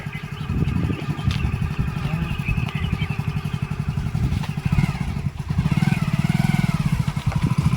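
A motorcycle engine chugs in a rough, rapid pulsing idle close by, with a slight rise in revs toward the end.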